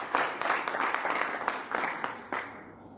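Lively applause from guests at a 40th anniversary gala dinner, with distinct sharp claps in a dense crowd, strong at first and then thinning and fading toward the end.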